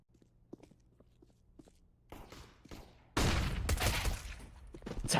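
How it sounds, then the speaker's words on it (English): Gunfire in a professional CS:GO match at the 2022 CCT North Europe event: soft footsteps and scattered clicks give way to a sudden loud, sustained burst of rapid shots that stays dense to the end. "Tapping away Cypher"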